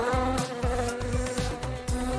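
Cartoon-style bees buzzing loudly and close in a rapid, wavering drone, with repeated swooping pitch bends as they dart about and no talking.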